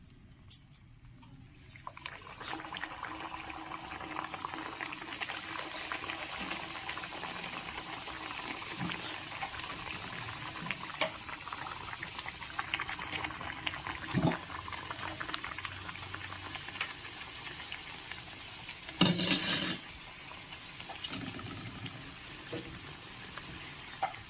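Nimki pastries deep-frying in hot oil give a steady, moderate bubbling sizzle that runs without a break, with a few brief clinks of a utensil toward the end and no talking.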